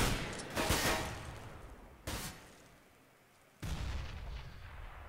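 Gunfire in Counter-Strike: Global Offensive with AK-47 rifles, three separate loud bursts of shots, each decaying into an echoing tail, heard alone without talk.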